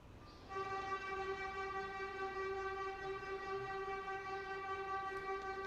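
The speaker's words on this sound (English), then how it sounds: "That's a lot of honking." A long, steady train horn blasts close by and fairly loud, one sustained chord held for several seconds without a break, heard on a road in Cuéllar.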